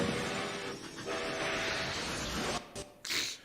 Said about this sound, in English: speaking of relativistic trains, here's one from the movies